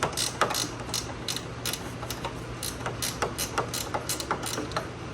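A ratchet wrench with a 13 mm socket is worked on the shock absorber bolts of a 2005 Toyota Prius, giving quick bursts of close, crisp ratcheting clicks in an irregular rhythm, with no talking.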